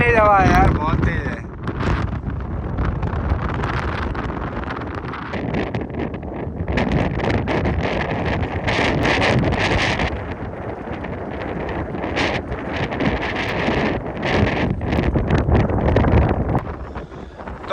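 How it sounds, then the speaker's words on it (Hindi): Strong wind roars and buffets the microphone across an open field where a pond is being dug, loud and continuous with gusty swells, while someone talks in Hindi throughout. "बहुत तेज हवा है यार, बहुत तेज है।"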